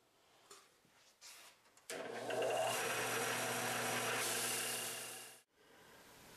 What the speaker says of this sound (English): That's nothing that the power belt sander can't handle though.